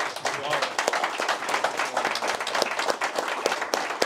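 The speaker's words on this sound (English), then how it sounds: "these two Antonios, they deserve really a special applause" An audience at a Madrid conference session claps for the two organizers, brisk sharp claps packed close together and sustained throughout, fairly near and loud.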